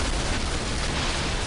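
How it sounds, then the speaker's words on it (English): A huge, loud explosion aboard an airliner in flight, heard as a sustained, dense roar of blast noise with no voices over it. "out of the blue, here comes this explosion"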